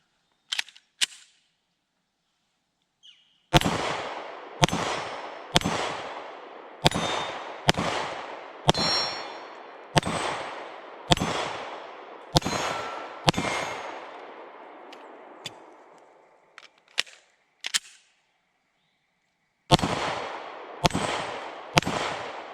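An H&K VP9 pistol fires shot after shot at freshly painted steel targets outdoors, each sharp crack followed by a ringing clang, about seventeen shots in uneven bursts separated by brief silences.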